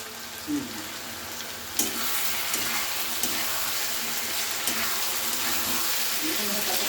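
Green peas stirred into frying spice paste for a cabbage dish with fish head, a continuous bright sizzle with a few soft knocks and scrapes of a spoon in the pan, close and steady.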